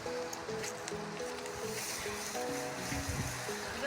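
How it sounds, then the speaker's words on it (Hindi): Strong wind gusts through trees on a rainy, snowy day, giving a steady broadband rush with rustling and flapping of blowing leaves throughout, fairly close, with no clear talk. "ये देखिए इतनी तेज हवा चल रही है भाई दोस्तों, आप देख सकते हैं पत्तियां कितनी तेजी से उड़ रही है।"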